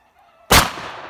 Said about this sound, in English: That's the first time I shot that gun, I'd say, in two or three years.